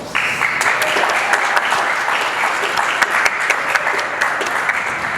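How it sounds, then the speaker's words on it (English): Sustained applause from a graduation ceremony crowd at GEMS American Academy Qatar, steady and dense clapping filling the whole stretch without pause, fairly loud and close with a few sharper claps standing out. "Please, a round of applause."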